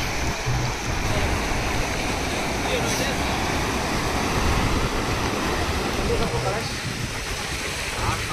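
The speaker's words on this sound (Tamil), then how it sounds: "இன்றைக்கி வந்து அலை கொஞ்சம் ரொம்ப அதிகமாக இருக்குது" Rough ocean waves surge and wash continuously onto the rocky shore of Anjuna beach in Goa, a loud, steady roar filling the scene with no break.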